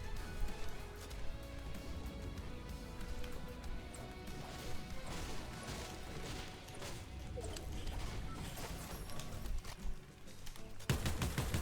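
Rapid gunfire in the video game Fortnite, shots smashing wooden boxes in a ranked solo match, dense overlapping bursts and impacts continuing steadily over game sounds with no speech.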